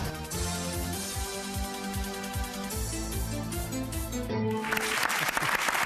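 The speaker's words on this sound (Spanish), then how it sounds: "Aplauso para Santiago Pavlovich, extraordinario" Music with steady tones fills a television studio at first, then a broad wash of audience applause for Santiago Pavlovich breaks in near the end.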